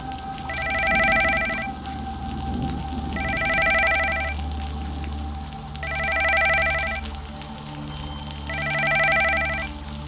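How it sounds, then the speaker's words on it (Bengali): A phone rings late at night as a story sound effect: four evenly spaced bursts of a trilling electronic telephone ring, loud and close over a low background drone, with no speech. "হঠাৎ আমার ফোনটা বেজে উঠল।"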